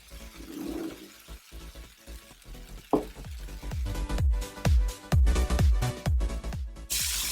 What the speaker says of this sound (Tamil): இப்போ நம்ம பேஸ்ட் பண்ணி வச்சிருக்க பலாப்பழத்தை சேர்த்துடலாம்.